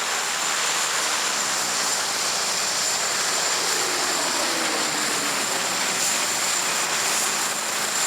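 Hawker Hurricane fighter aircraft flying at the Cosford Airshow, a steady broad engine roar that is continuous and fairly loud throughout, with no talk.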